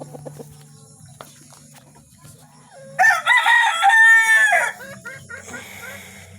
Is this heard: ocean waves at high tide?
no